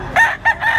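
A rooster at a chicken expo crows close and loud in short, clipped bursts, three quick harmonic calls within under a second, with no one talking over it.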